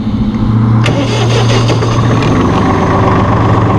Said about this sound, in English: Nice quiet engine